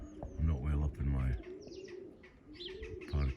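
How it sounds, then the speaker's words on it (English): A small parakeet coos like a pigeon, making three low, soft cooing calls spaced about a second apart, close by, with some chirpy background sounds between them. "The little parakeet at Tumble Towers."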